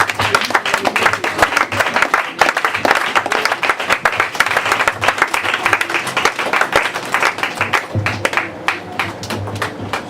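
A church congregation claps loudly and continuously, dense rhythmic applause with voices mixed in that swells and then thins slightly toward the end.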